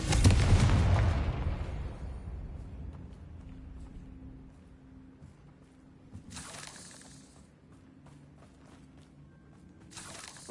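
A Confringo fire spell explodes in Hogwarts Legacy with a loud, sharp blast that decays over a couple of seconds. A low hum follows, and two brief bursts of crackling noise come later.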